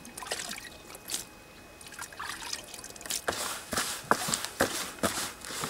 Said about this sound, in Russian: Добавляем водички немножко.